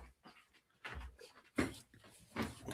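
A pet dog whimpers and pants in short, soft bursts close by, with low snuffling between the louder whines and no talking.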